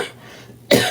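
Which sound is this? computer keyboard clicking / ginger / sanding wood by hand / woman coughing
woman coughing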